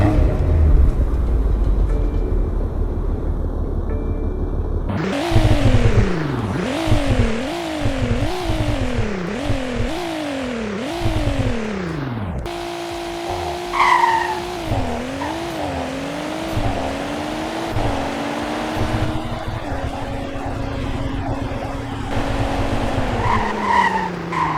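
A BMW M2 in a Roblox game revs repeatedly in sharp rising sweeps, then screeches its tires in long loud squeals with engine drone underneath, close and continuous.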